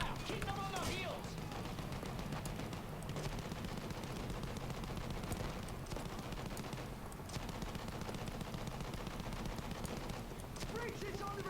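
Rapid gunfire rattles almost without pause through a World War 1 battle in Battlefield 1, dense bursts of shots layered over a low rumble, with shouted voices breaking in near the start and end.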